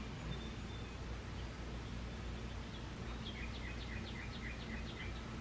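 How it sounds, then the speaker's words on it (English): Birds chirp faintly outdoors near a neighbor's garden, a light scatter of short tweets over steady background hiss and low ambient rumble. "Aren't the birds so pretty? I love listening to the birds."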